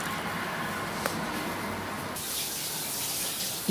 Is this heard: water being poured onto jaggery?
yes